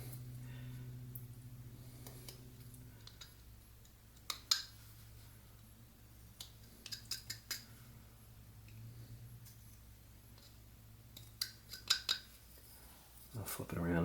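Knife whittling a mouth into wood, removing shavings: sparse, faint, sharp scraping clicks and short cuts scattered irregularly over a quiet background with a low hum.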